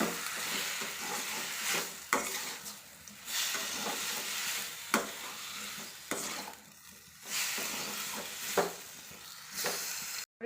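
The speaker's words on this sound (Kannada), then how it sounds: "ಟೊಮೊಟೊ ಸಾಫ್ಟ್ ಆಗೋವರೆಗೂ ಬಾಡಿಸ್ಕೊಳ್ಳಿ" Tomatoes sautéing in a pan until soft, a steady close sizzle and hiss with repeated scraping stirs every second or two throughout.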